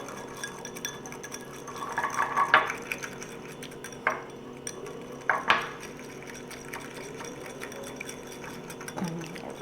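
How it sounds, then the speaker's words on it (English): Whisk clinking and swishing in a bowl while salad dressing with salt and pepper is mixed, irregular scrapes and taps with a few sharper clicks, close and moderately quiet. "Okay, and then we're going to whisk this together."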